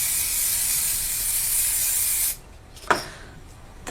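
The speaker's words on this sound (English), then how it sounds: "you can use a spray like this, which is just a frosting spray, and you can spray it on." Frosting spray hissing from an aerosol can onto window glass, a steady loud hiss lasting about two seconds before cutting off, then a couple of faint brief sounds follow.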